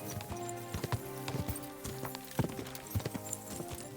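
Rhythmic hoofbeats of a fast galloping horse in Kingdom Come: Deliverance 2, clip-clopping steadily over game music and ambient sound, fairly close and even in pace.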